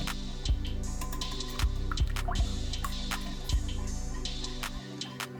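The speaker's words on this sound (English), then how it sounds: "So add your sweetened condensed milk, and whisk." Sweetened condensed milk being whisked in a bowl for milk bread roll dough: a steady wet stirring with several soft knocks of the whisk against the bowl, close up, over a low constant hum.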